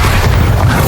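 A Bombarda blasting spell goes off in Hogwarts Legacy, a short, heavy, close explosion whose deep thump fills the entire moment with no talking over it.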